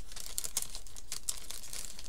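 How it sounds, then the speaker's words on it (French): A paper envelope is torn open and crinkled up close in a quiet room, a run of dry rustling and ripping bursts with no voices. "Je voulais pas tout déchirer en fait."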